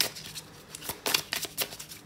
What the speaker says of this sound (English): Let's shuffle some oracle.